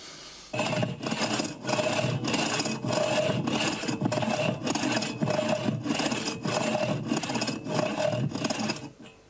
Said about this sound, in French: il grattera la partie fine pour obtenir les voiles des navires